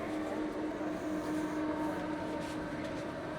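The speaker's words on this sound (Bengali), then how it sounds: "তো হচ্ছে ট্রেনের ভিতরে।" A quiet, steady hum and low rumble fill the cabin of a moving train in Russia. The sound is even and unbroken throughout, heard from inside the carriage with no voices.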